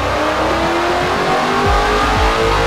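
A 2024 Ford Mustang with a VMP Gen 6 Stage 3 supercharger and long tube headers roaring on a dyno, a loud, close, continuous engine howl with rising and falling pitch as the revs climb.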